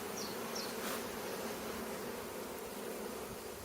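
A caught honeybee swarm fills the air with a steady, dense buzz, many bees droning together close by at an even level throughout, with no voices.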